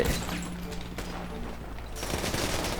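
Rapid bursts of gunfire in a GTA V FiveM shootout, crackling volleys at moderate loudness that fade briefly and then pick up again near the end.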